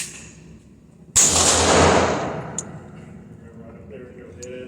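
A single handgun gunshot, either a Pietta Ace or a Glock 43x, fired outdoors during test shooting: one sharp loud crack with a long decaying tail, followed by quieter background sounds.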